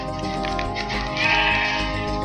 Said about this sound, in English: Come here, silly sheep.